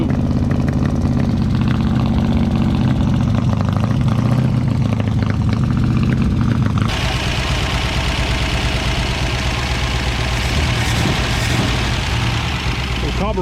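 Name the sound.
1957 Ford Fairlane 500 engine running after cranking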